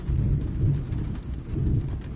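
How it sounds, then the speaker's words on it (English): Thunder in a video game exploring tombs, a steady low rumbling roll with rain-like hiss, loud and continuous with no talk over it. "I love the thunder sound"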